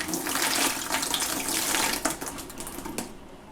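Pieces of polystyrene drop into water for washing, giving a steady splashing, trickling wash with a few sharper splashes and plops near the end, close and fairly loud, with no talking.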